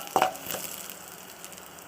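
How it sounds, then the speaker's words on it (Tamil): Onions and chillies sautéing in a pan for a broad bean stir-fry, a sharp burst of sizzling near the start that settles into a steady, quieter frying hiss. "இந்த மிளகாவையும் அதை போட்டுக்கிட்டு எல்லாத்தையும் நல்லா வதக்கிக்குங்க"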